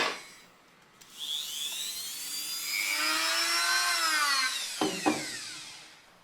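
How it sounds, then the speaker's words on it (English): Rotary tool fitted with steel wire bits scrubs surface rust off small parts from a BMW E30 325i Sport, a high whine rising as it bites and sliding down in pitch, ending with a few short scraping bursts near the end, no talking. "I began removing the surface rust from a few parts with a rotary tool and some steel wire bits"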